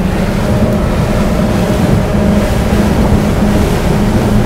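An Axopar 37 XC motorboat cruising on open water, a loud steady engine drone mixed with rushing water and wind noise across the microphone, continuous with no talk.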